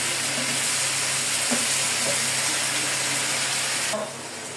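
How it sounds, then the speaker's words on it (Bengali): Soy, tomato and chilli sauces sizzle steadily in a hot pan for chilli chicken, a loud continuous hiss with faint stirring clinks, easing slightly at the end. "এখানে আমি সসগুলো দিয়ে দিব।"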